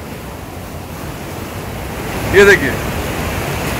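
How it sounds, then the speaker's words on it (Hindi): Steady broadband rushing water flows through the Arpa river dam barrage in Bilaspur, Chhattisgarh, after rain-swollen water is released. The roar continues throughout with wind buffeting, and someone speaks briefly over it. "काफी अच्छा फ्लो है, बारिश का फ्लो बढ़ गया है और पानी छोड़े हैं अभी"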